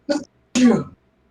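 One sneeze: a short intake burst, a brief pause, then a louder explosive release lasting under half a second, close to the microphone.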